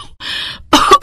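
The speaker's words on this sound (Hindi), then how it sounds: "खांसी भी उठने लगी" A woman coughs from wood-fire smoke rising off a cooking stove, with a short rasping breath and then two quick, close coughs.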